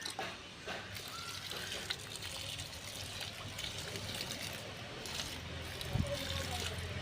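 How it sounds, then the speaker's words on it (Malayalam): Epsom salt solution is poured a little at a time onto plant soil, giving a soft, continuous trickle and dribble of liquid, faint and close, with light handling noises. "ഇങ്ങനെ കുറേശ്ശെ കുറേശ്ശെ ഒഴിച്ചുകൊണ്ടിരിക്കുക അത് ഇങ്ങനെ അടിയിലേക്ക് വലിയണം"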